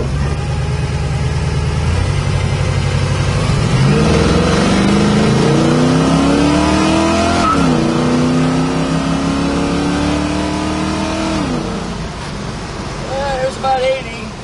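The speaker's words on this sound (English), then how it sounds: "The car really pulls like a freight train." A 1969 Chevrolet Camaro with a 383 stroker V8 revs up and accelerates hard, its engine note climbing through rising gear sweeps close and loud, then easing off as the car slows.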